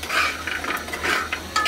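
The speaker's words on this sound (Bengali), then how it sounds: "এই যে এখন আমি এটাকে উল্টিয়ে দিচ্ছি, না উল্টালে এক একটা এক এক রকম ভাবে ভাজা হবে।" Pumpkin fritters turned over in a frying pan, with quick scraping and clinking of a utensil against the pan over a soft sizzle of hot oil, close and brief.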